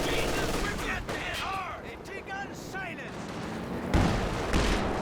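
Light machine gun fire from German Grenadiers in the WWII strategy game Company of Heroes 2, rattling bursts mixed with other battle noise and effects, ending in a heavier boom.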